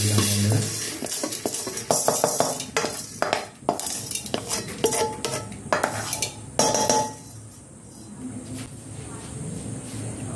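Dal going into a pressure cooker, with a clatter of metal utensils and pot scraping in irregular clinks and knocks, close by, then quieter hiss; a person speaks over it.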